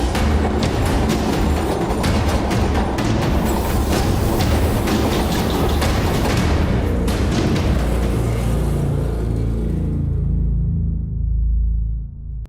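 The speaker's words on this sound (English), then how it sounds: "Young men are risking their lives, leaping onto moving subway trains" A moving New York City subway train roars loudly past with rattling clickety-clack wheels and rumble, then fades away into quiet near the end.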